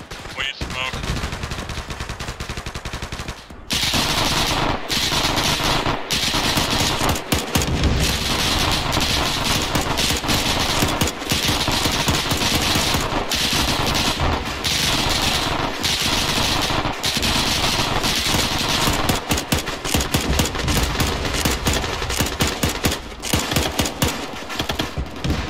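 Heavy gunfire in the video game ArmA 3 during a historical Tunisia campaign, dense continuous bursts of automatic fire, loud and sustained after a brief gap, with voices faintly underneath.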